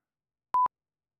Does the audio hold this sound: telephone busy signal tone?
yes